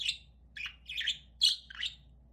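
Pet lovebirds chirp in a quiet indoor room, giving five short, bright high-pitched calls in quick irregular succession, close and fairly soft, with no voices.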